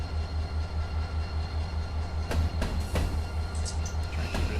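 A Conrail freight train rolls past in the Run 8 train simulator, a steady low rumble and engine drone with rail clatter and a few sharp clanks near the middle, heard alone without talk.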